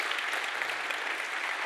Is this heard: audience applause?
yes